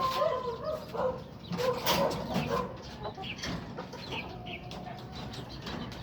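Chickens and chicks, some around three to five months old, cluck and chatter continuously at close range in a farmyard flock, with overlapping calls and occasional wing flaps, no talk.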